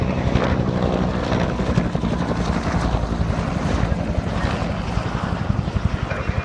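A loud Vietnam-era army helicopter passes close at an airshow, its rotor chop and engine roar filling the air steadily with no voices.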